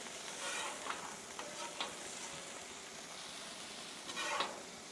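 Chicken and potatoes fry on a Blackstone griddle with a steady close sizzle, broken by a few sharp scraping stirs of a spatula.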